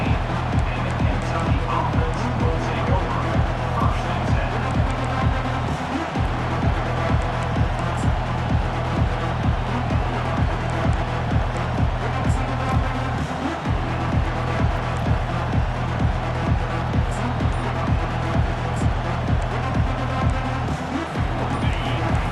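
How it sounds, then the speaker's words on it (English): Stadium crowd noise in EA Sports College Football 25, a steady dense roar with a rhythmic pulsing pattern running throughout, loud and continuous with no clear voices on top. "This crowd, full throat, splitting the eardrums"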